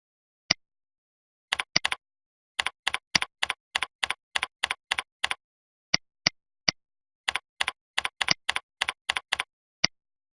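Keys clatter on a computer keyboard in short bursts, crisp isolated taps and quick runs of strokes separated by silent gaps, close and fairly quiet.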